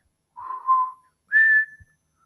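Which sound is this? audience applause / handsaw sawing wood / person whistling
person whistling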